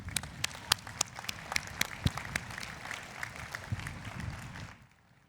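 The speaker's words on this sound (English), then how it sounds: "Let's give them a round of applause." Scattered crowd clapping at the Johns Hopkins University 2022 commencement ceremony, with sharp individual claps standing out over a broad wash of applause before it cuts off abruptly near the end.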